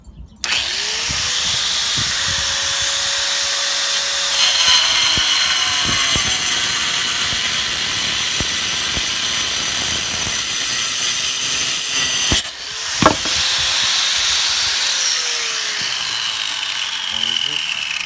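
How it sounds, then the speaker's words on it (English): An angle grinder cuts deep into bricks for a brick oven, its steady, loud, high whine running almost without a break. The pitch dips briefly midway, and near the end there is a short pause before the grinding starts again. "I do have the grinder. I'm gonna go as deep as the blade goes."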